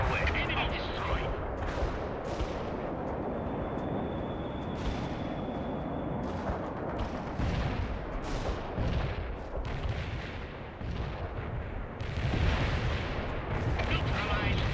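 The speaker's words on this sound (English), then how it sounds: "Mortar strike requested." Mortar strike and gunfire rumble through a World in Conflict battle, a steady barrage of thuds and crackling shots with a heavier blast near the end, under intermittent radio voices.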